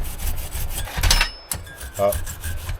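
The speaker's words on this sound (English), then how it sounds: "Small wire brush to get rid of the remnants." Small wire brush scrubbing the gasket face of a Stromberg carburettor from a Range Rover V8, producing close, scratchy rubbing strokes in short uneven bursts.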